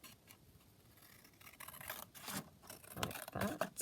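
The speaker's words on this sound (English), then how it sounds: "And then we're just going to cut that out" Scissors snip through a paper page cut from a book. The soft, quiet cutting and rustling come in short bursts that build slightly toward the end.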